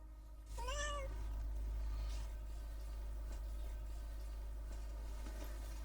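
A single close, clear cat meow rises and falls near the start, then gives way to a low, steady indoor hum with no voices.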